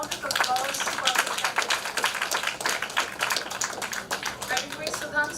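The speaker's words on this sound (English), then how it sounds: "let's have a huge round of applause" An audience applauding at an academic workshop felicitation ceremony, with dense continuous clapping throughout and a voice speaking over it.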